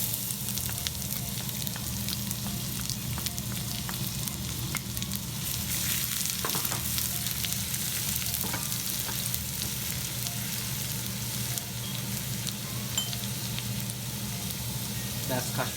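Ginger and garlic fry over curry leaves in a pan for chicken 65, a soft continuous sizzle with light crackles and occasional stirring scrapes, faint and steady under a low background hum.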